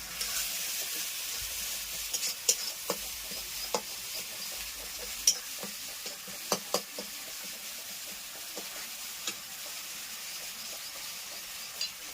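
Meat stirred and frying in a pan in a village home kitchen, a steady faint sizzle with occasional light spoon taps and scrapes, no voices.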